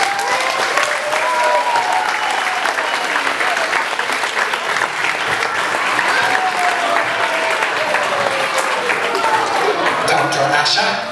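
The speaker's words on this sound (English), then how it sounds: "we just give our doctor a huge, big, and wonderful round of applause" A large audience applauds loudly and steadily at a kids' interval act, dense clapping holding throughout with no break.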